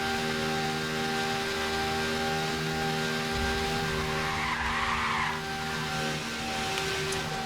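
Tyres screech in a sustained skid in the Burnout Revenge racing game, layered over a droning engine note that holds steady for several seconds with no talking.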